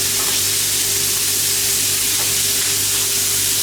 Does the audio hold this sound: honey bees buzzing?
no